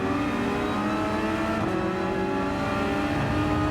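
Porsche 911 GT3 R race car engine in a racing video game, a loud continuous drone holding steady with slight pitch shifts, close and alone without any talk.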